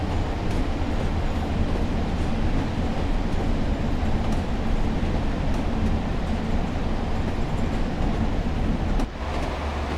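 A GMPTE Class 142 Pacer diesel railbus in a train simulator game runs steadily near Preston, a loud, continuous rumble and rattle of engine and wheels on track with no talking, dipping briefly near the end.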